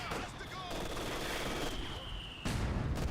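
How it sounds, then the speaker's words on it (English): MG4 machine gun fire in Company of Heroes 2, a sustained rattling burst with battle noise behind it, a sharp louder impact near the end, quiet overall. "with the MG4 in the back line, these guys in the front line just getting suppressed"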